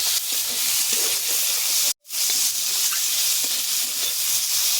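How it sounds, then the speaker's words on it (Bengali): Potatoes and pond snails (gugli) stir-fry in spiced oil, a steady loud sizzle and hiss running throughout with a brief cut of near silence partway through. "এবার ভালো করে কষিয়ে নেব।"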